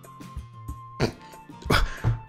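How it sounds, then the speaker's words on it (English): A single person coughs a few times in short, close, forceful bursts with a brief pause between them, and there is no talking around the coughs. "Cough."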